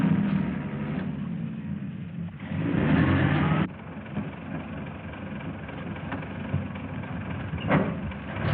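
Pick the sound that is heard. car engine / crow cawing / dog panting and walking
car engine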